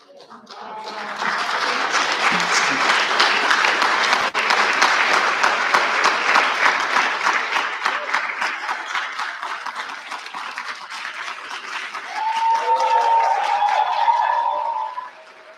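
Sustained applause from an audience at a school assembly, a dense, loud wash of clapping lasting over ten seconds, with some cheering and whoops near the end.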